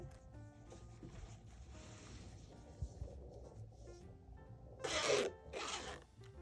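A zipper for a small crochet coin purse is handled, giving two short, close rasping zips near the end after quieter rustling and faint background music.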